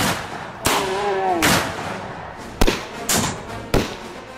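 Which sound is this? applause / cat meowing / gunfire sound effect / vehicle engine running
gunfire sound effect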